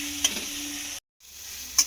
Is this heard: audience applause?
no